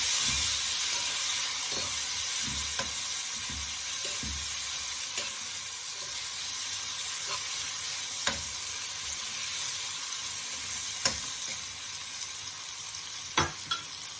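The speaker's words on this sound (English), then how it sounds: "I'll give that a stir." Curry shrimp and sweet peppers sizzle steadily in a hot pan while a utensil stirs them, with scattered sharp scrapes and clicks over a continuous frying hiss; no talking.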